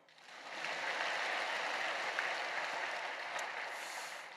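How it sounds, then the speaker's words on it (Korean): A church congregation applauds, a faint, steady wash of clapping that swells in, holds for a few seconds and slowly thins out, heard from a distance. "우리에게 박수 한번."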